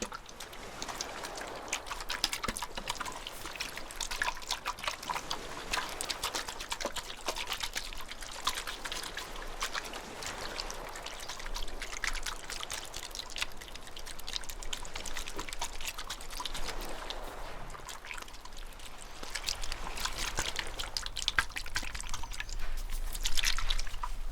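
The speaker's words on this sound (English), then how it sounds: "So listen to the sounds of the water." Steady trickling and dripping water, a soft continuous run of small splashes and drips heard close and quiet, alone without talk throughout.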